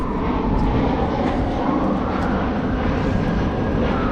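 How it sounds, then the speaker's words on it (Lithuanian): Steady broadband engine roar of an airplane passing overhead near a cathedral in Sofia, Bulgaria, loud and continuous with a low rumble throughout. "Kiek tie lėktuvai čia skraidys?"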